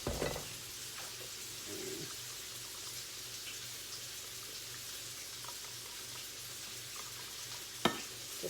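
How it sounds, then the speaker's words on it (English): Milk being stirred and whisked into cream of mushroom soup for a mushroom sauce, a soft steady swishing and scraping with a low hum beneath and one sharp clink near the end, no talking. "Just going to mix that, stir that up in there to get all that good cream of mushroom soup out of there. And I'm just going to whisk it together."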